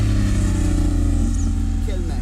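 A 1984 European Porsche 911 Carrera with its 3.2-litre flat-six, driven on a race track, gives a steady, loud mid-pitched engine drone with a hint of a voice over it.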